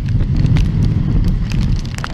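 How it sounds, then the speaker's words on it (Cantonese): Wind from Typhoon Nida rumbles and buffets along a Hong Kong city street in August 2016, a loud, close, continuous roar with a hiss of rain on top and no voices. "喺風暴吹襲期間，市區嘅風勢咧都時大時細，有時大風起嚟咧"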